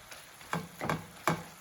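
Bacon frying in a pan, a soft background sizzle with three distinct crackling pops or stirring bursts spaced about half a second apart, no voices.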